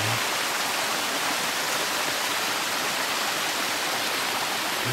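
Creek water flowing steadily outdoors on a cold day, a continuous broadband rush with no breaks, fairly close and alone without talk.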